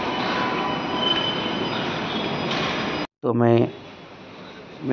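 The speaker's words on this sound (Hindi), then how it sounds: "तो मैं मेट्रो में बैठा" A metro train rumbles along with screeching wheels, then a brief silence before a squealing, rising tone as the train moves again, fairly close and loud.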